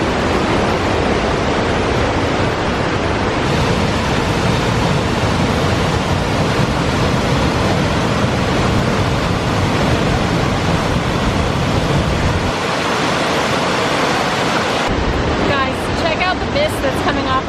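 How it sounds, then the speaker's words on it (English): A waterfall in the mountains near Asheville roars close by, a dense, loud, continuous rushing of water that fills the whole stretch without pause. "That's coming off of the waterfall right behind here."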